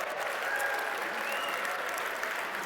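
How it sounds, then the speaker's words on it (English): A gala audience at the Inspiration Awards claps steadily in a broad, even wash of applause that holds without letup, moderately distant and with no talk on top. "round of applause for Daniel Alfredson."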